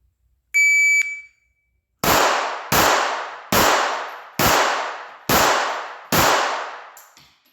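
A shot timer beeps once, then six sharp gunshots ring out in an even, rapid string from a Glock 42 and Ruger LCP pistols on a six-yard drill, loud and close with no voices.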